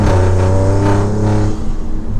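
A tuned 600 hp Alfa Romeo Giulia Quadrifoglio pulls hard in race mode, its loud engine note rising steadily before a quick gearshift cuts it and the revs climb again, close and without any talk over it.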